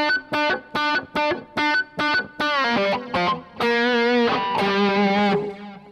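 A distorted electric guitar plays a choppy staccato phrase of short repeated chords, then moves into longer sustained notes, loud and close.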